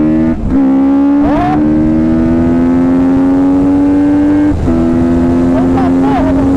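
A motorcycle with an aftermarket exhaust revs and holds a steady high drone, rising in pitch with each throttle burst, with brief dips between, up close and continuous.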